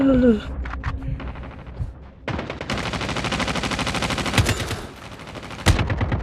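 Rapid automatic gunfire in the mobile shooter Call of Duty Mobile, loud sustained bursts after a short quieter stretch with game voice cues.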